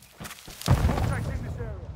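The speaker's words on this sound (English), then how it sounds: "Throwing flash grenade!" A flash grenade goes off in the Call of Duty Modern Warfare 2 video game with a few muffled taps and then a heavy booming burst that rings out and fades, while a voice talks over it.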